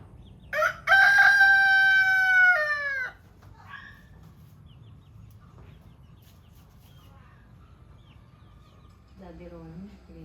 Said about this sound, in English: I've just been filming and looking at the chickens down the bottom